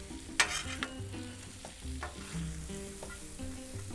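Shrimp frying in a hot pan for shrimp fried rice give a steady close sizzle, with scattered clinks and scrapes from stirring running through it and no voices.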